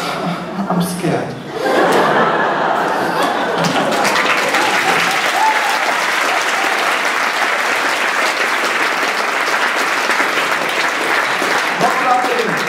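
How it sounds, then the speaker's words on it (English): Applause and some laughter from the audience at a 2015 Christmas party fill the room, a brief hush near the start and then steady, loud, dense clapping that carries on to the end. "No clapping. No clapping, please."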